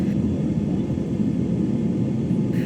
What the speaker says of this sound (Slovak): lietadlo vzlietlo na minútu presne